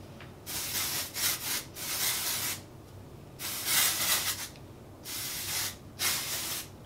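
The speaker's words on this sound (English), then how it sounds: "Really what I'm gonna do with this is spray it throughout my entire head of hair." Several short hissing bursts of hair texture spray, each a second or so long with brief pauses between, close by and fairly soft.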